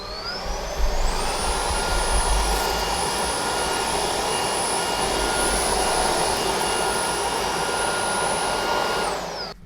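A Roidmi X20 cordless stick vacuum cleaner runs steadily and loudly for nearly ten seconds, a constant high whine over broadband suction rush, starting up at the beginning and cutting off at the end, with no talking.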